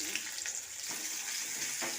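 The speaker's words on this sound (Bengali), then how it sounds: "পেঁয়াজটাকে ভেজে নেবো" Chopped onion fries in hot oil with panch phoron, dried red chilli, bay leaf and green chilli, a constant close sizzle with occasional stirring scrapes.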